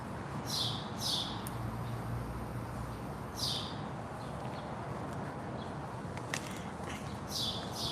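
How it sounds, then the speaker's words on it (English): Bright bird song outdoors comes in loud repeated bursts of chirps and trills, several short phrases spaced a second or two apart over a steady background murmur, with no talk. "that bird's just kind of distracting me. She's loud."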